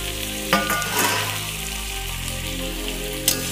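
Chopped potatoes fry in a pan with steady close sizzling, and a spoon stirs them with a few louder scrapes and clatters, and no one speaks.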